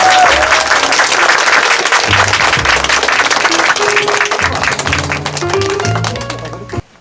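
Sustained, loud applause fills a bookshop concert hall as an audience welcomes poet Jeong Ho-seung, dense clapping with crowd murmur that gradually thins and tapers off toward the end.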